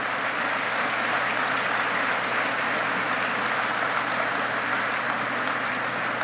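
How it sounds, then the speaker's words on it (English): Sustained audience applause at a formal Army Aviation association gathering, following bagpipe music, as a dense, steady wash of many hands clapping at close range, continuing evenly throughout without voices. "Please join me in a round of applause for Mr. Joe Ausfall"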